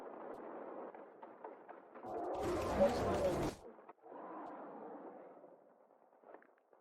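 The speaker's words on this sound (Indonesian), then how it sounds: "Tembak hancurkan mereka berkeping-keping." A movie battle with monsters produces a dense burst of gunfire and explosions that lasts about a second and a half, set between dubbed voices speaking before and after.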